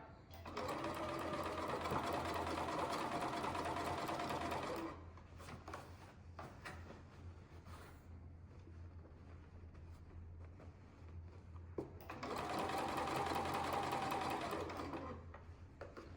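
A domestic sewing machine stitches fabric for a sou'wester sun hat, running in two loud steady bursts with a quieter pause between them, close and mechanical.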